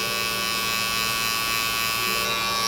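An electric hair clipper buzzes steadily and close up during a self-cut low fade haircut, a continuous, even motor drone with no pauses.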